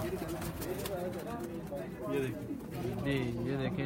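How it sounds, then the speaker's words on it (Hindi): Red pigeons coo in low, repeated murmurs among a crowd of birds, with people talking over them throughout. "ये इनका लाल चीना कबूतर है"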